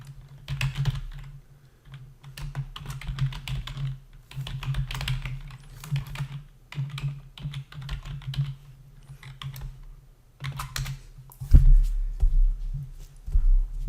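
Typing on a computer keyboard, with a username and password entered at a login page: bursts of close, rapid key clicks in short runs with brief pauses, ending in a few heavier keystrokes.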